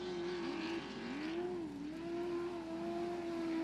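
A race truck's engine revs hard at a dirt track event in Bark River, Michigan, as it tears into turn one, a loud sustained roar whose pitch dips and climbs through the corner with no talk over it.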